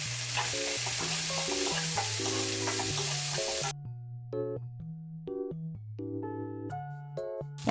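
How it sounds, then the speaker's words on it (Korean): Chopped vegetables stir-fry in a pan for curry fried rice, giving a loud, steady sizzle over background music. The frying noise cuts off about halfway, and only the music carries on. "파향이 나면 썰었던 야채를 모두 넣어주세요."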